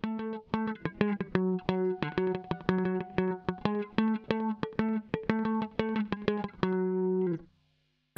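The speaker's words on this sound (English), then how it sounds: "some slapback delay set to around 100 milliseconds" Electric guitar played through a slapback delay set to around 100 milliseconds: a rhythmic run of crisp, evenly picked notes, each with a quick single echo, ending on a held note that cuts off.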